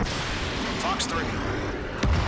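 A missile launch in Ace Combat 7, a roaring rocket rush over dense jet engine noise with brief whooshing streaks, then a heavy low thump near the end.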